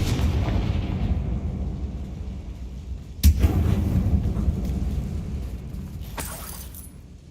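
A Confringo fire spell in a video game bursts with one sharp, loud blast that rolls into a rumbling tail, over a constant low roar of game ambience.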